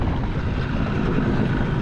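Gusty wind roars steadily across the microphone at a Lake Murray boat ramp by Dreher Island State Park, South Carolina, a dense low rumble with faint lapping water and no one talking.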